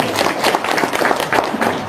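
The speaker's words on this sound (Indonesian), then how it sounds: "Tepuk tangan dong." An audience claps in response to a speaker, a dense, even patter of many hands filling the space and continuing steadily without pause, moderately loud and close.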